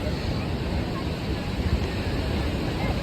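Steady broadband wash of surf at Samiyarpettai beach near Pichavaram, continuous and fairly loud with wind rumble across the microphone, no voices over it.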